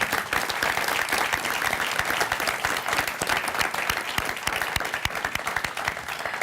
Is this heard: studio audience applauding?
yes